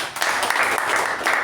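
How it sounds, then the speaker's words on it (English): A small audience at a Toastmasters meeting claps for the speaker and evaluator. The applause is brief, steady and fairly loud, made of dense overlapping claps from start to finish. "Give them a big round of applause."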